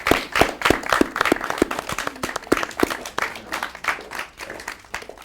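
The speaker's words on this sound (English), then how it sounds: "Give a round of applause to her for wearing that" A small audience claps for a model at a fashion designer's show, individual sharp claps clearly distinct in an uneven, moderately loud patter.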